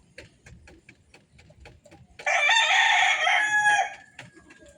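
A Force Park broodcock rooster crows once, loud and close, in a single long call lasting about two seconds, after a stretch of quieter soft ticking and clucking.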